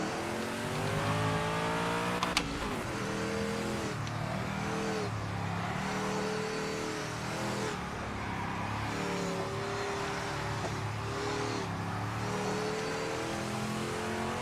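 A race car engine in a racing video game drones and revs steadily through gear changes, a continuous buzzing whine that rises and falls across the lap with no talking.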